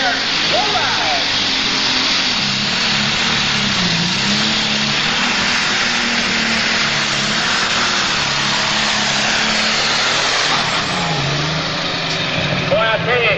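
A super stock pulling tractor's engine roars continuously at a 1997 Ionia, Michigan pull, a loud sustained drone with shifting pitch, while an announcer talks over it.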